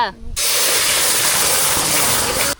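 Palm fruit pulp for palm fruit jam poured into hot oil, a sudden loud, steady sizzling hiss that starts abruptly and holds for about two seconds before cutting off.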